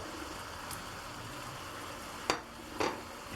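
Chicken pieces added to softened onion cook in a pan with a low continuous sizzle, broken by two sharp bursts of stirring and scraping.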